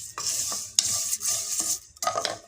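Vermicelli frying in hot oil in a single pot for koshari, with bright sizzling bursts broken by spoon scrapes and clinks against the pan, close up and without voices.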